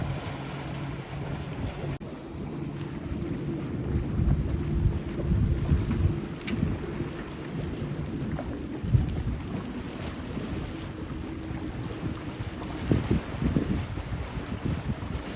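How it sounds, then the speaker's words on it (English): Steady wind roars and buffets against the microphone, a low rumbling rush that swells and gusts with no voices. "I hope you can hear me over the wind."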